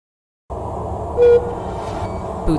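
A train in the VR game Sairento VR rumbles steadily after a short silence, with a brief horn toot partway through and another faint one near the end, moderately loud and with no talking.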